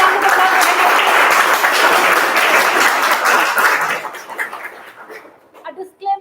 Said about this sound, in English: Can we have a huge round of applause for